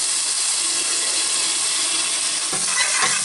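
Sliced onions sizzle and fry in a pan while being stirred for a Moroccan-style chicken dish, a steady close hiss with a few scraping stirs near the end.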